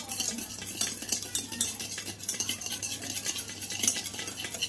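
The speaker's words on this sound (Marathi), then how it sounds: "व्यवस्थित आता मिक्स करून घेऊया त्याला" Slice cake batter mixed with yogurt is stirred in a bowl, giving continuous rhythmic scraping and sloshing with light utensil clinks, close and moderately loud.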